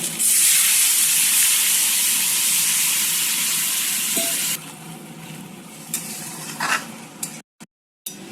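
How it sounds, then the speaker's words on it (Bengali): Water poured into a pan of frying vegetables, cooked for a Bengali New Year meal, sets off a loud, steady hiss of sizzling steam that carries on for several seconds. It then eases back to a quieter crackle, broken by a few soft clinks and scrapes. "ভাজাটাও হয়ে গেছে, এখন একটু জল দিয়ে দেবো।"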